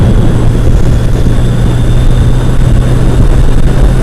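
A jet ski engine runs steadily on the water, a loud, continuous droning hum with no voices, close to the rider throughout.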